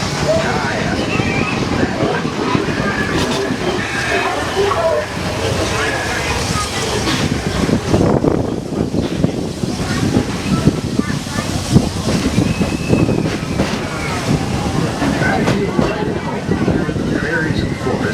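Rumbling and clattering of the Walt Disney World Railroad train moving along rails, steady and close, with wind noise and a voice speaking over it.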